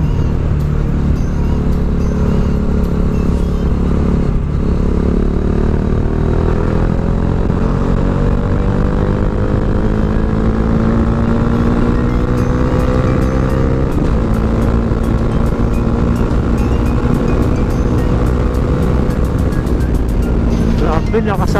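Bajaj Dominar 400 motorcycle climbing uphill on a mountain road, the engine loud and close with a rising, straining drone as the revs climb through gears, steady wind rush throughout.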